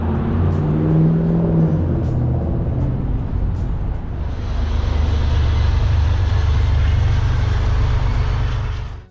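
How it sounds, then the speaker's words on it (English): A South Coast Rail commuter train heads northbound past a main-street diner, making a loud, steady rumble that fills the whole stretch and grows brighter and more rushing partway through. "step outside to record the train heading northbound"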